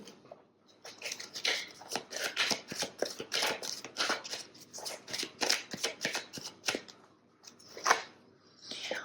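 Oracle cards being shuffled by hand, a continuous run of quick riffling flicks and soft slaps, close and moderately loud, with no talking.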